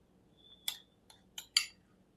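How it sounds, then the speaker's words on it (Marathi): A spoon clinks against a glass a few times while raw mango pulp is added, producing light, bright taps that come faint and close over a quiet background. "हांवे एक ग्लास घेतला, आता तितूत हे 2 चमचे घान घेता पल्प।"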